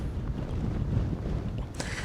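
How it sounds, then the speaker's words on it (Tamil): Strong wind gusting across open desert ground during a dust storm in Mongolia, a steady loud roar buffeting the microphone with a harsher surge near the end. "பயங்கரமான காற்றடிக்குது, ரொம்ப மோசமாக இருக்குது"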